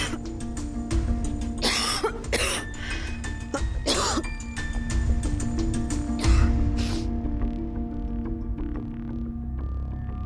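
A person coughs repeatedly in bursts of varying strength, with some throat clearing, over a steady low hum in an indoor room, with no talking.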